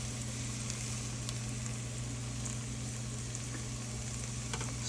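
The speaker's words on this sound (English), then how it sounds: "Then add your garlic." Garlic sizzling in a frying pan of spaghetti sauce, a steady, dense hiss of frying that stays even and fairly quiet throughout, with no voices.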